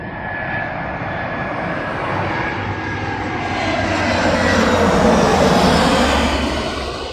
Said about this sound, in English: Oh, now the Starfighter. What an aircraft!